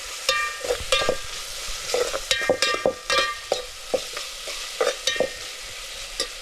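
Oil sizzles softly with turmeric and chilli powder in a tempering on a wood-fired stove, under repeated metallic scrapes and clinks of a spoon stirring in a pan, in an irregular rhythm.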